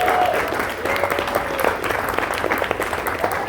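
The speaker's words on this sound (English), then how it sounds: "Huge round of applause again for Dom." Audience applause for a performer named Dom at a songwriters' round evening, a steady dense clapping from a crowd lasting throughout without any talk over it.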